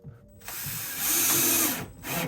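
Screws driven into a door hinge while fixing a rubbing door, a close power driver whirring and ratcheting in two quick bursts that rise and stop.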